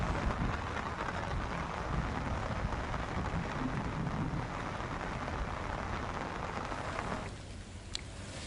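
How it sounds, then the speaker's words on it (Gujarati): Soft, steady rain hiss, even and continuous throughout, with no voices. "ધીમે ધારે વરસાદ વરસ્યો છે"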